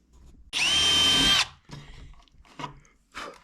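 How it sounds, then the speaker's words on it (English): A power drill bores large holes through plywood for T-nuts on a Baja hobby L39 XXL model jet build: a loud, steady whine of about one second, then several quieter bursts of drilling and handling noise. "whenever I'm drilling through this plywood, these big holes to get in my T-nuts"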